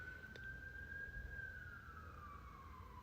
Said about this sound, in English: Here's our first siren of the year